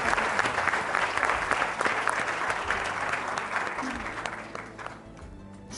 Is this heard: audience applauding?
yes